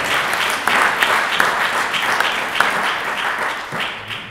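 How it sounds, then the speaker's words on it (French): At a Sciences Po conference on the French overseas territories, an audience applauds the ultramarine students' association, a sustained clapping with a few sharper individual claps standing out near the front. "Vous pouvez l'applaudir également."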